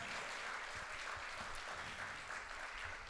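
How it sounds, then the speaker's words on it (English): Church congregation at an Easter Sunday service clapping steadily, a soft, distant wash of applause that holds even throughout with no talking over it. "Give her a clap as she comes up."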